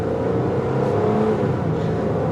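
A Mercury Sable's engine drones steadily from inside the moving car, a continuous close hum of a misfiring engine being wound up with no clear revving peaks, alone without talk.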